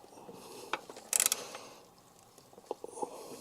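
A ratchet on two extension bars and a 13mm socket breaks loose a starter motor bolt on a Porsche 911 996 C4S, a brief burst of close clicking followed by a few scattered metallic ticks.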